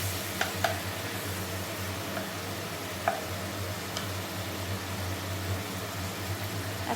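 Spice masala with tomatoes simmers and sizzles in a pan after a splash of hot water, a steady low bubbling hiss with a few light clicks of a utensil against the pot.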